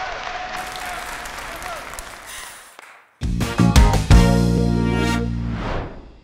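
An audience at a family event on a TV show applauding in a sustained wash of clapping, followed by loud music with booming beats.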